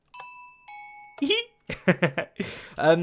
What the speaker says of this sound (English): Oh, that's the doorbell, by the way